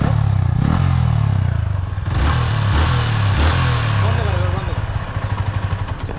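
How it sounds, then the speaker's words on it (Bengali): A motorcycle fitted with its stock silencer runs steadily nearby, a low rumbling engine note with light throttle blips and some mechanical clatter, continuous throughout. "ফাইনালি কিন্তু স্টক সাইলেন্সারটা লাগানো হয়ে গেছে। অ্যান্ড এর সাউন্ডটা একবার চেক করো, চলো স্টার্ট কর।"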